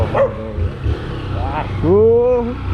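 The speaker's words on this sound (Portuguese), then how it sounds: "Esse cachorro que quer pegar moto é complicado" A dog barks and yips while chasing a motorcycle on a road, several sharp barks scattered over steady engine noise, with someone talking over it.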